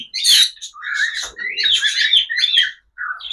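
Pet cockatiels call with shrill, repeated squawks and chirps in close, loud bursts that run almost nonstop, broken by one short pause.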